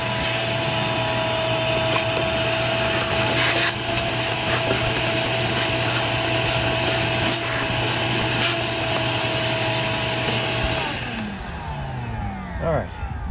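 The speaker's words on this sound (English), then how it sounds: "I'm going to use my shop vac" A shop vac sucks corrosion and dust out of a Cadillac CTS battery tray. It gives a loud, steady whine and rush with scraping bumps as the nozzle moves, then winds down near the end.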